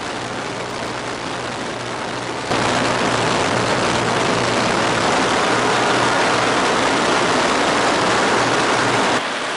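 Cockpit drone from a Westland Lysander propeller aircraft in flight, loud and continuous with a steady engine hum under a broad rushing noise that rises slightly after a couple of seconds, with no talking.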